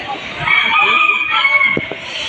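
A rooster at Manila Zoo crows once, loud and close, holding a long drawn-out call over faint crowd murmur.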